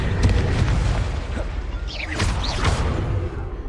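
Confringo blasting spells go off in Hogwarts Legacy combat as deep booming blasts over a continuous rumble, with whooshing streaks flying through the loud, dense fight.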